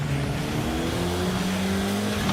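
A muscle car's engine roars and revs hard during a power shift, the pitch climbing and briefly dropping between gears, loud and close with no talking over it.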